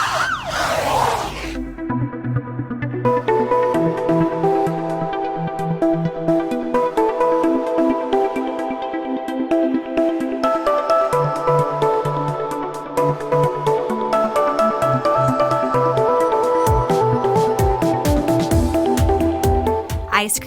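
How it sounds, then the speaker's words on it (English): A police car siren wails loud and close, its repeating rising and falling tone cycling continuously for about twenty seconds with no talk over it. "Police car."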